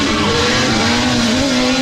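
An off-road racing vehicle on BF Goodrich tires roars loudly and steadily throughout, a continuous engine drone with a sustained tonal whine and no voices over it.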